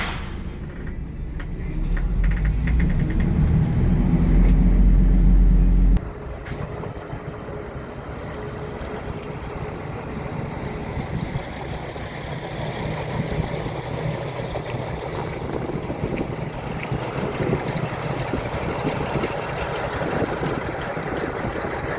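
An Ikarus 256 touring coach bus driving at speed: a loud, deep engine rumble for the first few seconds settles into a steady broadband roar of engine and road noise, continuous throughout, with no talking.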